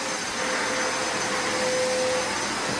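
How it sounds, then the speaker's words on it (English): Concrete grinder dust extractor vacuum running steadily on a job site where vinyl flooring was ground off concrete, a loud continuous whine with a faint steady tone, no talking. "Dust extracting."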